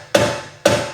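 Two sharp hammer taps strike a BMW brake rotor to loosen it from the hub during a DIY brake service, each hit ringing briefly with metallic resonance, evenly spaced and close.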